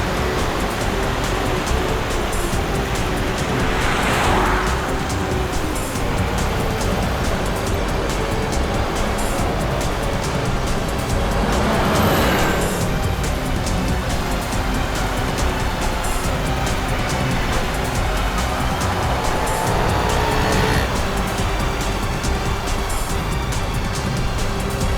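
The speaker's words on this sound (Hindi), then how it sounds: "ये गाड़ी भी शिल्पा का पीछा कर रही है।" Cars chase Shilpa in a CID TV episode, with a continuous roaring rush of road noise. Swelling whooshes rise every several seconds as the vehicles speed past. No one speaks.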